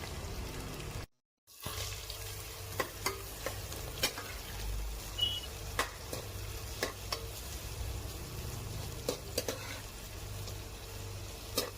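Chopped onions fry in a pan with a soft continuous sizzle, broken by occasional sharp clicks and taps of stirring, close and moderately quiet with no talk.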